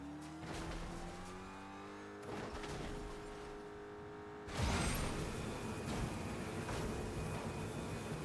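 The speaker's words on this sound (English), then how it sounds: "This player has a car." A car drives in Fortnite's Star Wars Galactic Battle season, its engine revving in smooth rising pitches, cutting out briefly, then surging louder with a squealing burst and continuing to accelerate.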